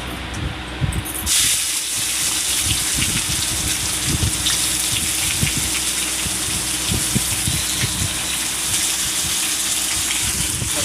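Chopped onion hits a hot pan and sets off a loud, steady sizzle that holds at full strength throughout, with faint clatter underneath while a Bengali country-chicken curry is cooked.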